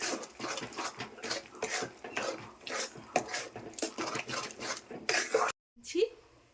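Chana dal paste fried and stirred in a pan, with repeated scraping and clinking of a utensil against the metal in an irregular rhythm, a brief pause near the end, then one more scrape.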